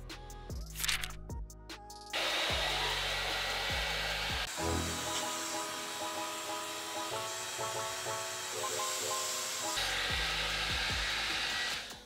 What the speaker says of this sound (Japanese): はい、まずドライヤーしたんですけど